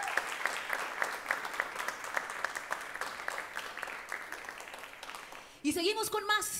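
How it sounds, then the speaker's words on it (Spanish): Audience clapping at a Costa Rican televised music show, welcoming a national artist: a rhythmic, moderately dense round of applause that continues steadily, then a sudden loud cheer or shout near the end. "Un fuerte aplauso para él."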